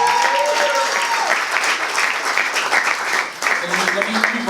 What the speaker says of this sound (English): Let's clap it up for Big Daddy Kane one time